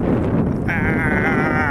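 Steady wind buffeting a handheld camera microphone outdoors, a loud continuous low rumble filling the whole stretch without pause.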